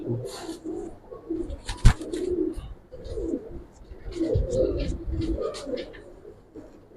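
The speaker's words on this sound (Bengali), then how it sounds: "এটা নর কবুতর" A male Giribaz pigeon coos in low, rolling bursts close by, with voices talking over it and a sharp knock partway through.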